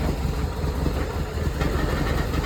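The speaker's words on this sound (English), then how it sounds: "It's actually the bumper that's rattling." An idling engine runs with a rattling bumper and front panel, a steady close low rumble with a continuous buzzing rattle and no talking.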